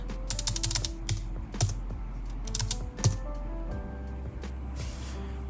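Keys on a Surface Pro 3 keyboard clack as a password is typed, with quick bursts of close, fairly quiet taps, a few sharper strokes and short pauses in between.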